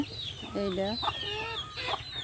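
Chickens cluck in a village yard beside a pond-like ditch, several short calls rising and falling at moderate distance over a steady low background hum, with a voice faintly audible.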